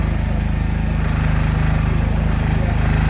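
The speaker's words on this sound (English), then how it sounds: "The Grinder GP 4000D is a diesel-driven grinding aggregate" A diesel-driven rail grinding machine, the Grinder GP 4000D, drones steadily with a low, throbbing engine pulse and a constant humming tone, loud and unchanging throughout.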